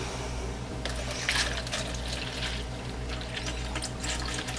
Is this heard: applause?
no